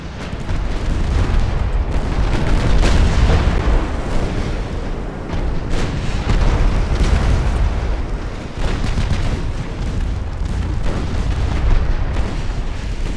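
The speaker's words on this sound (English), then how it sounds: "Okay, fire the torpedoes." Torpedoes launch and detonate in a 1900s naval war strategy game, a sustained barrage of loud, rumbling booms and bursts that rolls on with no pauses.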